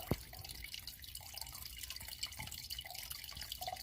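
A small indoor tabletop water fountain trickles steadily, giving a faint, continuous patter of dripping water in a quiet room with no talking.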